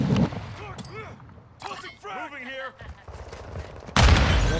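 Gunfire from a sideways-held gun in a Call of Duty–style shooter, with bursts of shots scattered among spoken talk and a loud, dense volley at the end.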